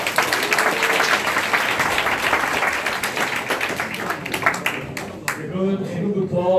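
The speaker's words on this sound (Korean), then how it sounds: "다시 한번 큰 박수 드립니다" An audience in a lecture room claps after a lecture, a dense, steady wash of applause that thins out toward the end as a voice starts to come through.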